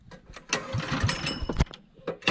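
A boat engine is cranked with its starter on a river choked with rasau thicket in Sebangau National Park: several short, loud sputtering bursts that fail to settle into a steady run.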